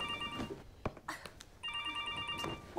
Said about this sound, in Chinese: 哎，等一下，电话！